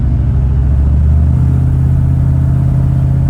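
A car with a Cruise-O-Matic automatic transmission drives along: a steady mid-pitched engine drone with a change in tone partway through as it shifts gears, close and continuous, with no talk.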